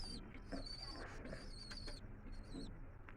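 Black homer pigeons at a pigeon market coo softly in short, repeated murmurs, faint against background bustle and high chirps from other birds.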